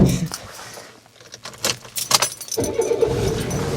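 Keys jangle loudly in bursts over a steady car or engine hum, with brief rattles near the start and middle and a denser burst toward the end.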